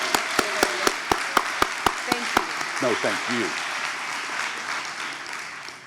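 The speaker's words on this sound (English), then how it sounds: "Let's give Rashawn another round of applause." Applause at the SAYS 2023 event: crisp, evenly spaced claps at first, then a brief spoken reply, then a steady wash of crowd clapping that carries on to the end.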